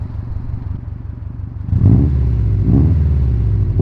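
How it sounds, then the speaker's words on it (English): Subaru STI engine with a modified exhaust, idling with a low burbling rumble before being revved up, holding a louder raised roar with two swells. "Maybe I can go rev it up."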